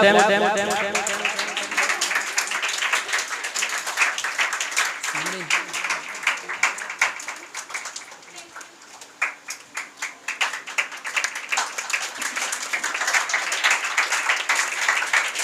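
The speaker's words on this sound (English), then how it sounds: "Clap for them." An audience applauds at a Teacher's Appreciation Day celebration at a school, with dense, sustained clapping that continues for the whole stretch, briefly thinning midway and then swelling again, while a voice speaks over it near the start.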